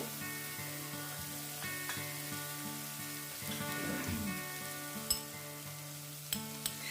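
Onions fry in a pan for pomfret gravy, a soft, continuous sizzle with a low steady hum under it and a few faint clinks near the end.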